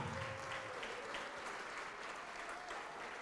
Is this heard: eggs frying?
no